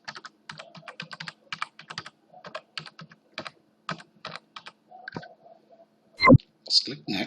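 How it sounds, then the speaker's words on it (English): Fingers tap out an email address on a computer keyboard in quick uneven runs of crisp clicks, close and clear, ending with a couple of heavier key or mouse clicks. "Enter the purchaser's email address."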